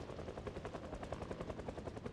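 A helicopter passes in the video game Project Zomboid, its rotor making a steady, fast chopping thump that sounds fairly distant and faint, with no talking.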